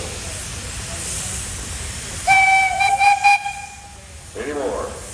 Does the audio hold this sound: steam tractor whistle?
yes